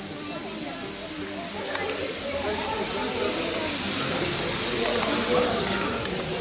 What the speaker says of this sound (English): The tallest waterfall here too.